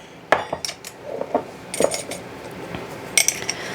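Metal measuring spoons clink and tap in a home kitchen while a teaspoon of baking powder goes in with flour, giving several scattered, close, light metallic clicks.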